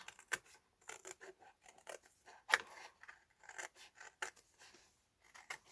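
Scissors cutting fabric shapes for a fabric masterboard, quiet close snipping and rasping in a quick irregular series of short strokes, alone without talk.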